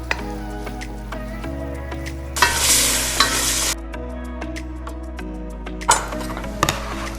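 Onions for chili fry in a pan with a low, steady sizzle, broken by several close scraping stirs and a few clinks of a utensil against the pan.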